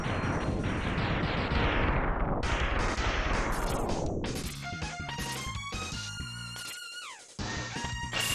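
Floor crumbling apart in the Mega Man X game's Launch Octopus stage: a dense, loud rumbling crash of breaking blocks fades over several seconds, then gives way to sharp chiptune blasts and musical game effects.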